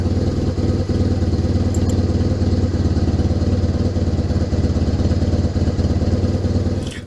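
A Kawasaki KZ750 motorcycle engine idles steadily during a carburettor sync, close and loud with an even, throbbing rhythm throughout and no talk over it.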